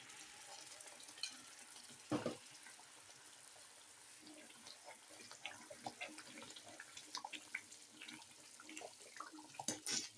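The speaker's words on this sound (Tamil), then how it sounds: "தேவையான அளவு கருப்பட்டி வடிகட்டினதை ஊற்றணும்." Filtered palm jaggery syrup being poured into moringa leaf halwa as it cooks in a pan, giving a faint liquid trickle over a soft bubbling sizzle with occasional light scrapes.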